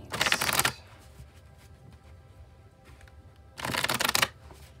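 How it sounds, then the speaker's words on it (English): A tarot deck gets two quick riffle shuffles, the first at the start and the second near the end. Each is a loud, fluttering burst of cards, and the gap between them is quiet. "I'll shuffle till the deck feels ready"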